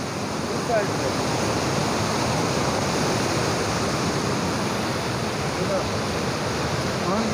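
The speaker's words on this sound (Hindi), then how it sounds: "पानी की स्पीड आप चेक करें, पानी बहुत ज़्यादा जो है ना स्पीड में है" A fast, ice-cold mountain river in Kalam valley, Swat, rushes loudly and steadily throughout as a dense, unbroken roar of water.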